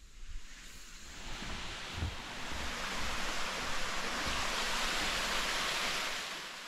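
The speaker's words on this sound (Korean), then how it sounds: "폭포에 가까워질수록 물소리가 조금씩 크게 들리기 시작합니다" Water rushing at Ungye Falls near Gamaksan suspension bridge, reduced flow in hot weather, a broad steady roar that swells slightly louder as it nears, with no talk over it.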